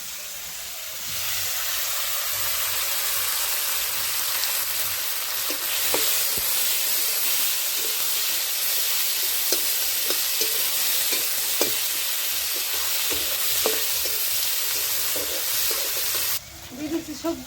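Whole cumin, chopped onion and split green chillies dropped into hot oil, a loud steady sizzle and hiss lasting many seconds with scattered pops and stirring clicks, cutting off abruptly near the end.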